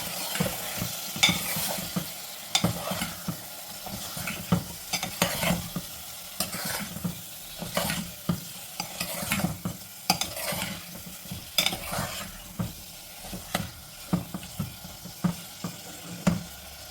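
Mutton masala being stirred in a pan over medium heat, a spoon scraping in repeated uneven strokes through a soft sizzle, close and fairly quiet with no talking.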